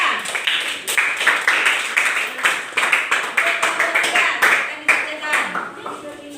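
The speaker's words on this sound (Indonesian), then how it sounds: "tepuk tangan untuk kelompok dua" Classroom applause for a student group, a quick patter of many hands clapping steadily for several seconds, fairly close and lively, with some voices mixed in underneath.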